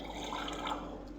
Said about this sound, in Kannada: ಅದಕ್ಕೊಂದು ಸ್ವಲ್ಪ ನೀರು ಆ್ಯಡ್ ಮಾಡ್ಕೊಳ್ಳೋಣ